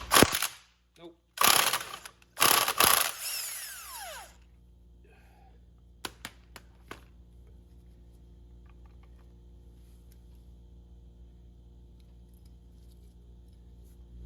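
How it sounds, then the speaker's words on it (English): Mechanical clanks and metallic rattles from work on a Suzuki LT80 clutch come in loud bursts at first, then sparse faint taps and clicks over a quiet background. "I've decided to take this clutch apart"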